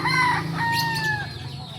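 Several chickens cluck and call nearby, with drawn-out squawks over a low background hum.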